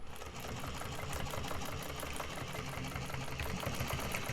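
A sewing machine runs steadily as it stitches along the top of a fabric bag, just above a slit. The motor's close, continuous rhythmic whir carries through the whole stretch without pause.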